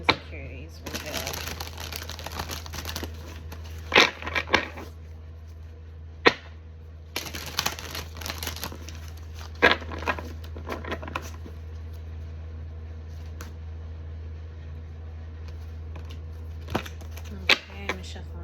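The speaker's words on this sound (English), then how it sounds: "Okay, I'm gonna shuffle one more time." Tarot cards being shuffled in bursts of crisp riffling and patter, with pauses and a few sharp taps between, close by and fairly quiet.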